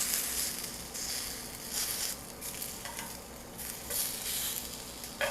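Potatoes frying in a pan over medium-high heat, a dense steady sizzle with scraping and stirring bursts as they are flipped, close and alone without talk.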